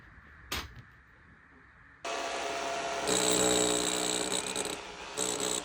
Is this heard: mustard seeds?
no